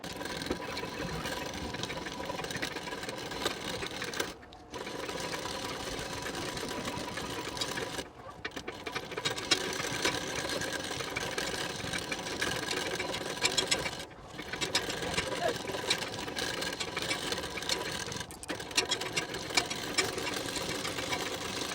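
Sewing machine running a top stitch along the pleat edge of a saree petticoat, a steady close mechanical whir held for long stretches and broken by three brief stops, with no talking.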